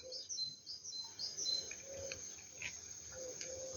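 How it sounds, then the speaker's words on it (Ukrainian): Small birds sing outdoors in a yard among cherry trees: thin, high chirps and short trills, fairly faint, over a soft background hum and low rustling. "Пташечки співають."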